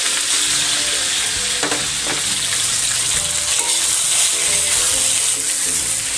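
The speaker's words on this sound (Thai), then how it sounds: "นำกระลำปีลงไปผัดนะครับ แล้วก็ตามด้วยเห็ดนะครับ" Cabbage and mushrooms stir-fry in a pan with garlic, a constant loud sizzle with occasional clanking strokes of a spatula, no talking.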